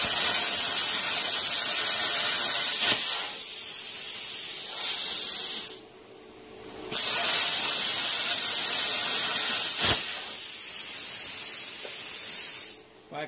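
Hand-held 50 amp plasma cutter slicing through metal, a loud steady airy hiss with brief pops at arc start, cutting out twice for short pauses before resuming.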